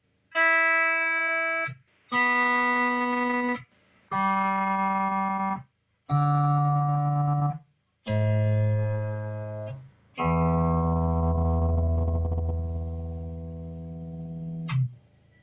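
Electric guitar playing six sustained notes, each held about a second and a half with brief gaps, the last one longer and richer, loud and close.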